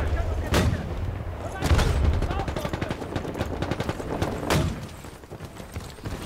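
Several loud gunshots crack out at intervals over a steady rattle of rapid fire and battle noise in the video game Medal of Honor, with talking underneath.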